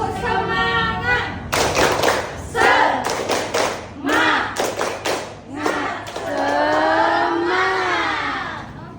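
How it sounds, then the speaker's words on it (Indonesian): A classroom of pupils does a rhythmic spirit clap during an Indonesian lesson on cultural diversity, with bursts of group clapping in patterned beats mixed with children's chanting voices, fairly loud and close. "Mulai 1, 2, 3. Tepuk semangat."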